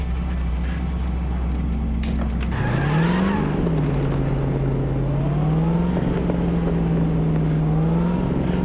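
In Cyberpunk 2077, a car engine idles low, then revs up and holds a steady, loud drone that rises and falls slightly as the car pulls away.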